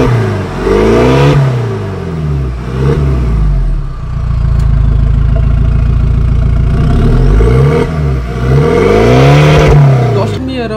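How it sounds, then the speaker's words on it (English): A Mahindra Thar 4x4 with a modified exhaust revs repeatedly, loud close engine swells rising and falling with a rumbling idle between blips. "Don't forget the epic exhaust note you'll get as a bonus either."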